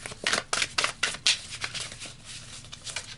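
Tarot cards being shuffled by hand, a run of quick papery riffling bursts in an uneven rhythm, close and fairly soft with no talking.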